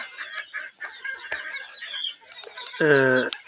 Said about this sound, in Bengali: আপনারা দেখতে পাচ্ছেন এই যে দেশি মুরগির বাচ্চা